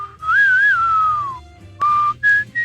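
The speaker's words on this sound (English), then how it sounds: "that famous whistling thing" A single person whistles a Clint Eastwood western film melody alone, clear and close, with sliding held notes followed by a few short bright phrases.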